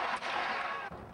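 Gunfire from a gunman in news footage of the attack on Benazir Bhutto, a sharp report near the start and another around the end, set against a noisy crowd background.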